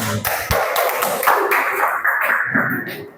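A classroom group claps after a lesson on the call to prayer, with a brief scattered round of hand claps that is fairly loud and close and lasts about three seconds.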